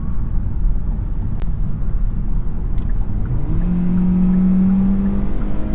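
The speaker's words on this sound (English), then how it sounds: "Sometimes the car's got to work to get up to highway speeds. We've got the pedal to the metal right now" A 2021 Hyundai Elantra under full throttle on the road, its engine droning steadily beneath constant road and wind noise as it climbs to highway speed, a rising tone emerging toward the end.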